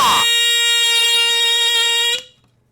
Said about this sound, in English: The low-tone delta alarm squealer sings once again